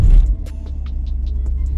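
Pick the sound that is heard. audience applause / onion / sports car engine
sports car engine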